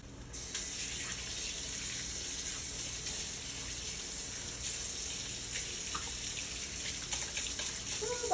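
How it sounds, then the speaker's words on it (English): Tap water runs steadily into a sink for hand washing, a constant hissing gush close by with a few faint splashes and clinks, and a voice briefly at the end. "Let me wash my hands"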